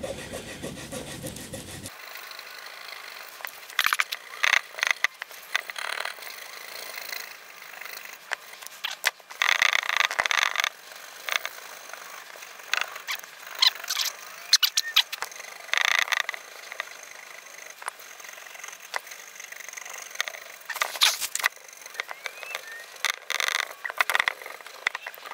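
Paper being rubbed over a wood plaque to transfer ink, a dry scratchy scraping that comes in irregular strokes and bursts over roughly twenty-five seconds, fairly close and loud.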